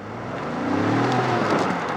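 A Ford Bronco Heritage Limited Edition drives through muddy ruts, its engine droning steadily and building in a sustained rev as the tires search for grip, loud and close without talk.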